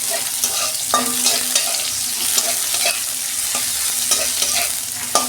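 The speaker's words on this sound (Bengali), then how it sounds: "ওই তেলে আমি কালো জিরে দিচ্ছি। একটা পেঁয়াজ কেটে রেখেছিলাম, দিয়ে দিচ্ছি" Onion and black nigella seeds fry in hot oil in a pan after potatoes and aubergine, a steady close sizzle and crackle with scattered stirring clicks and scrapes throughout.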